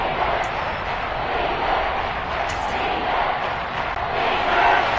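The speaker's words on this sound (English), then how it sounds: "the crowd getting into it as we come up on a big 3rd down" Stadium crowd in a football video game, a steady loud roar of cheering that swells slightly toward the end, continuous and broad with no clear individual voices.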